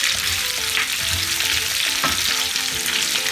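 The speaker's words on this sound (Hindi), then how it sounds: "अब डाल देते हैं अनियंस। अच्छे से मिक्स कर देंगे।" Onions dropped into hot oil with browned cumin seeds, a loud, steady sizzle and crackle of frying with occasional stirring, close up, no voices.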